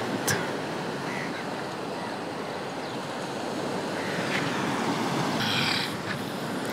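A rowed fishing boat heads out to sea off Mirya Bandar in Ratnagiri, with continuous loud surf and wind noise filling the scene and a few faint knocks over it.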